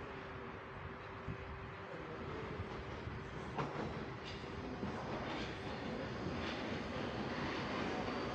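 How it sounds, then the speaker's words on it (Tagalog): A train pulls into a station in Europe, giving a steady low rumble and rolling clatter with faint squeals, building gradually over several seconds with no voices. "Ayun na, Maggi. May train na."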